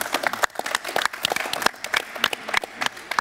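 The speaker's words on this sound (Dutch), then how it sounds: "geef hem een daverend applaus" Enthusiastic audience applause at a business event, sharp individual claps clearly separated and close by, sounding like a modest crowd clapping energetically for a few seconds.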